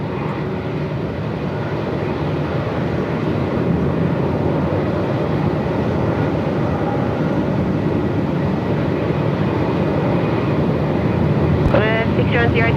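Gusts of 45-plus-knot wind sweep across Melbourne Airport in a loud, steady roar that never lets up, blended with distant aircraft engine rumble, and a brief twittering chirp rises near the end.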